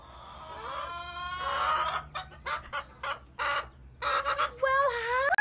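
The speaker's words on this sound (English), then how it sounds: "Look at all my chicken friends." Backyard chickens cluck and squawk close by, a run of choppy bursts and rising calls from several birds, loud with no talking.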